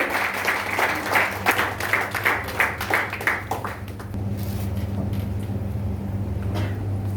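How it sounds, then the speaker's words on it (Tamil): An audience applauds at a 2021 ceremony honouring COVID heroes, loud dense clapping in bursts that gives way to a steady crowd hum with low mechanical drone underneath. "நீங்க எல்லாம் ஒற்றுமையா ஒன்னா சேர்ந்து கை தட்டீங்களே"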